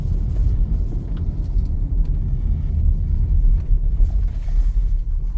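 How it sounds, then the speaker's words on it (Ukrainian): A car engine idles steadily after a bearing replacement, a low continuous rumble with no voices, close and even in loudness throughout. "тепер тільки чути мотор."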